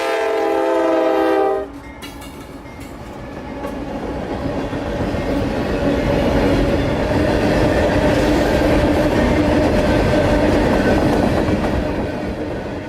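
A long one-commodity freight train loaded with phosphate rolls past in Florida, a horn blast opening before the steady roar and rumble of cars takes over, loud and sustained throughout.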